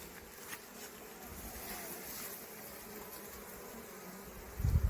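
Honeybees at a sanctuary hive buzz in a continuous, fairly faint drone, with a louder thump close to the microphone at the very end.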